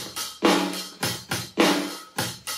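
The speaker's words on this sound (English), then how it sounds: "It's a very straightforward rock rhythm" Straightforward rock drum loop from a drum app, with punchy kick and snare hits alternating in a steady groove, close and loud, with no voices.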